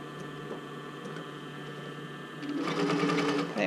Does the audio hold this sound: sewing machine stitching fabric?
yes